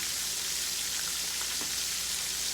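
Shrimp frying in a pan of hot grease give a dense, steady sizzle and crackle, close and continuous with no talking.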